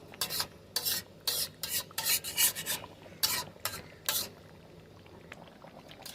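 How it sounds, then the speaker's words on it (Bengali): Chicken pieces for coriander chicken being stirred and sautéed in a pan, heard as a run of short, close scraping and rasping strokes in an irregular rhythm that fade into quiet near the end. "সুন্দর করে কষানো হচ্ছে মাংসটা"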